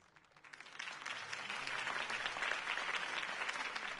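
Crowd applause at a Gotham City campaign rally for Harvey Dent, swelling from quiet into a broad, steady wash of clapping heard from a distance.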